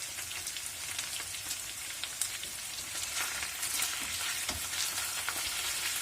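Potatoes fry in a pan, a steady crackling sizzle broken by soft, irregular scraping as they are stirred gently, with no voices.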